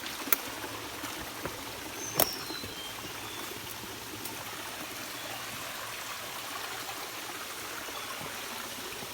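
Jim Yai waterfall near Ban Khao Phluang in Phetchabun, Thailand, gives a steady, even rush of falling water that fills the whole stretch, with a couple of faint brief knocks near the start.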